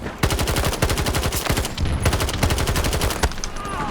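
Assault rifle gunfire in the video game Battlefield 2042, close and loud bursts of rapid automatic shots with brief pauses, punctuated by a few sharper single cracks.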